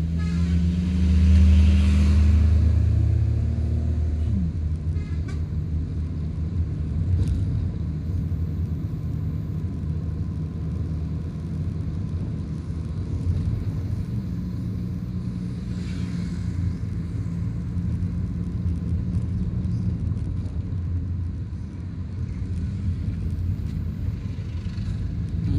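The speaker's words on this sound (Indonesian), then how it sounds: "Ada satu lagi truk besar." A big truck rumbles past on a congested mountain road between Padang Panjang and Aie Angek, its deep engine drone loud and close at first and then holding steady beneath the surrounding traffic noise.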